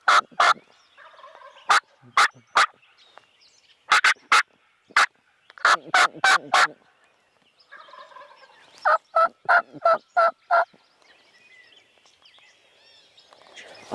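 A wild turkey gobbles from a tree during a spring public-land hunt in southwest Wisconsin: loud, rattling gobble bursts repeat in quick rapid-fire series with short quiet gaps, close and clear against a still morning.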